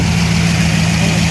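A 1967 Shelby GT350 engine idles with a loud, close, steady low rumble. The even throb carries on through a brief stretch with no voices.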